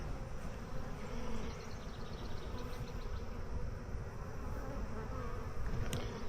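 Steady dense buzzing of many honeybees around a hive, continuous and close, with a constant droning hum throughout.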